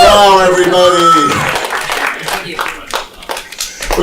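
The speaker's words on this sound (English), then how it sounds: "Round of applause again for Hari Rao." A comedy show crowd applauds comedian Hari Rao, with clapping building as an excited voice speaks over it at first, then continuing as a steady round of applause.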